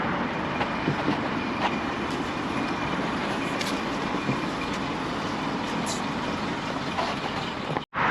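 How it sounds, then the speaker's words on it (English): A Docklands Light Railway train passes near Gallions Reach in London, a steady loud rumble and rail roar that fills the whole stretch, heard outdoors close by without speech. "There's a train."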